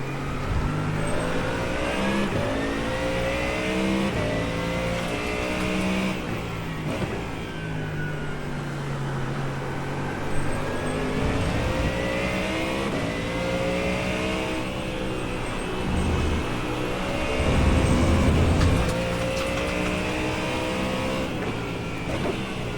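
Race car engines in iRacing on a wet Road America circuit, loud and continuous with repeated rising revs through the gears and other cars close by, the drone filling the whole stretch without talk.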